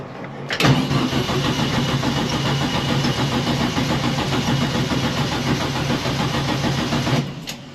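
A 1956 Volkswagen Beetle engine with twin carburetors cranks, catches and runs steadily and loudly for about six seconds, then stops abruptly.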